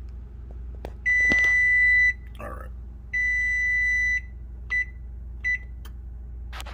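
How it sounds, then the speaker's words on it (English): An oven timer sounds off during a DIY paint fix on an exhaust tip: two long, loud electronic beeps of about a second each, then two short chirps, with a brief spoken word in between. "Timer's gonna go off, and then we're gonna open it up."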